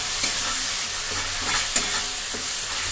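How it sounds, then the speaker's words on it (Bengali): Cumin powder being stirred into a frying Tangra catfish curry: a steady broad sizzle with soft, irregular scraping strokes of a spoon against the pan, close and continuous. "জিরে গুঁড়ো দিতে হবে, ভালো করে নাড়তে হবে।"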